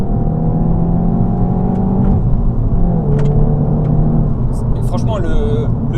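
Seat Leon Cupra R 2.0 TSI, a 2018 five-door with 310 hp and a manual gearbox, loud and close inside the cabin as it accelerates through rising engine tones, then a gear change and a few sharp exhaust pops near the end.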